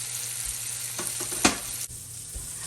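Pork chops sizzle in a frying pan, a steady close hiss with a few sharper pops and a brief clatter, no voices.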